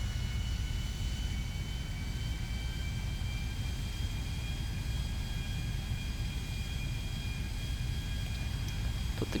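A-10A Thunderbolt II jet taking off in a modded open-world crime game, a steady, loud engine roar with a high whine, continuous and unbroken throughout.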